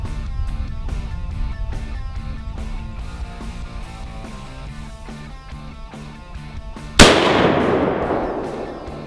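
A single sharp rifle shot cracks out during elk hunting pre-season target practice in Colorado, loud and close, its blast decaying over a couple of seconds after a stretch of steady background sound.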